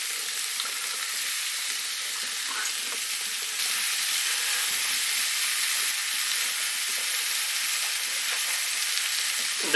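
Mushrooms fry in a pan for a steak sauce, a steady close hiss and sizzle with faint scraping as they are stirred, no talking.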